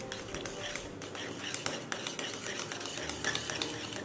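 A spoon stirs orange juice mixed with condensed milk in a bowl of ground dried orange peel, a continuous scraping and clinking close by with small taps throughout.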